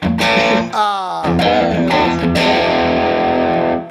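An electric guitar played through a Coppersound Strategy analog preamp and clean boost pedal rings out in full, loud chords with a bending note, thick and slightly driven, alone without talk.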